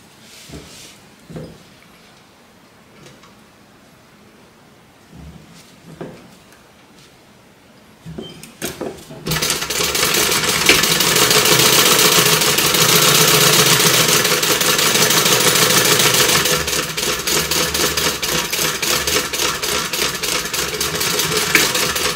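A sewing machine stitches and backstitches a seam. A few quiet clicks and taps come first, then a loud, steady motor whir that runs unbroken for about thirteen seconds, dipping slightly near the end.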